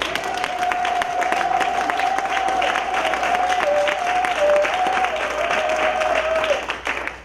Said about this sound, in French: Acclamez très fort les rois